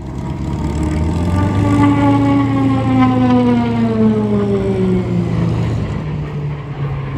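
A PC-21 turboprop trainer sweeps past at high speed, a loud, steady drone whose pitch slides clearly downward as it passes, heard from the ground at an air show with no talking.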